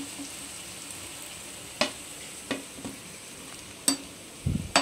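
Sabudana rajgira tikki fries in hot oil, a soft continuous sizzle close by, broken by a few sharp clicks and crackles and a brief rustle near the end.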